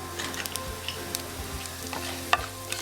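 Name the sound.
urad dal, chana dal and peanuts frying and being stirred in a pan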